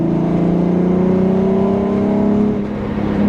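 Car engine revving on a mild, roughly 57-degree day, a loud steady drone that climbs in pitch through the run, with a brief dip near the end before it picks up again, no voices over it.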